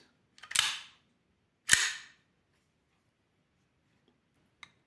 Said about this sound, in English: I always recock the mechanism without using of the clip